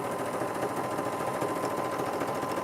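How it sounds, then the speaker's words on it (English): A sewing machine runs a continuous 5/8-inch seam on kitchen curtain fabric, a close, loud, rapid mechanical whir with no pauses. "The markings are on this sewing machine."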